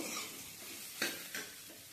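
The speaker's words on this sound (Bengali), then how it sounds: "তেলটা গরম হয়ে গেছে, সয়াবিনটাকে ভেজে নেব, ভালো করে একটু ভেজে নেব" Soybean chunks sizzle and crackle in hot mustard oil in a kadai, a steady close frying hiss broken by two brief stirring scrapes, with no talk.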